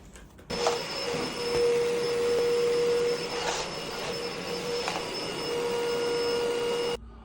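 A vacuum cleaner runs steadily with a droning motor whine for several seconds, then cuts off abruptly.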